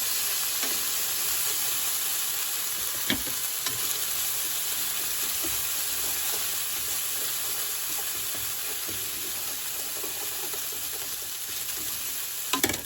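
Macaroni stir-fries in a hot pan with a steady, even sizzle and occasional soft clinks of a utensil stirring, heard alone and fairly quiet throughout.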